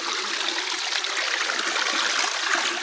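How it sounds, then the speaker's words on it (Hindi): Water from a spring at Kalijai temple on Chilika lake flows steadily, a close, continuous bright rushing trickle with no pauses. "यहाँ पर ये पानी जो है बहुत ही सुंदर पानी है"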